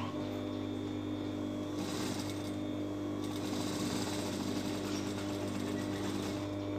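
A sewing machine stitches fabric for a pair of shorts, its motor humming in one continuous, fairly quiet run with no voices over it.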